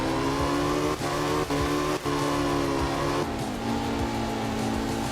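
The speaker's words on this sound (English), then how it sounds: "A little bit of drift going there." A Porsche in a racing video game revs hard through second gear while drifting, its engine note loud and sustained with brief dips between shifts, and a light tire squeal underneath.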